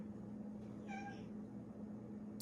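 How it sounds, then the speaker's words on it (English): A male house cat meows once indoors, a faint, short cry over a low steady hum. "And I just got a kitty crying after me."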